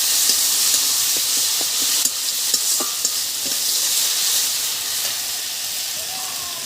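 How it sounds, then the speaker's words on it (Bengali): A paste of ground green chilli, dry chilli and garlic fries in a pan, giving a steady bright sizzle and hiss, with scattered soft taps and scrapes of a stirring spoon. "মশলাটা আমি ভালো করে কষিয়ে নেব অল্প করে মশলার জল দেব"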